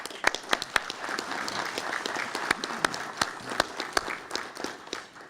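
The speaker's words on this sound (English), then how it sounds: "I want to give him a round of applause" Sparse applause from a municipal gathering honoring the retiring fire chief of Rocky Mount, individual claps standing out sharply over a steady patter of hands, with no speech over it.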